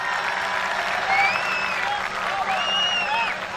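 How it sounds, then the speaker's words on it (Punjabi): A crowd at an open kabaddi match claps in sustained, dense applause that rises and falls, while an announcer talks over it through a loudspeaker. "ਇੱਕ ਕਬੱਡੀ ਵਾਸਤੇ ਤਾੜੀ ਮਾਰੋ"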